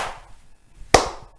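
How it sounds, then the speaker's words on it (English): A single sharp hand clap, with only a faint tap just before it, rings out close and loud in a quiet room during a church Sunday club service. "I want you to clap your hands twice."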